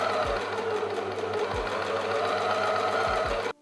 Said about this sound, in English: And I'm gonna stitch up to these markings.